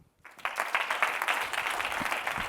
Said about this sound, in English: So please give a round of applause for Francesco.